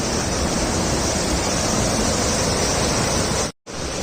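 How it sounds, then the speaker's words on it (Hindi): A dangerously flooded river rushes past during heavy monsoon rain in a forest, a steady loud roar of turbulent water filling the whole clip, with one brief dropout near the end. "और कोई इस नदी को पार नहीं कर सकता। अभी देखो कितनी खतरनाक आ रही है भाई"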